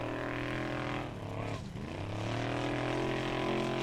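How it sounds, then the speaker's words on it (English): A Formula Offroad buggy, the Sledgehammer, runs a time attack track at an Icelandic event in Hella. Its engine drones loudly and steadily with strong harmonics, dipping and rising in pitch around a brief throttle change. "here we have Geir Grímsson driving the sledgehammer"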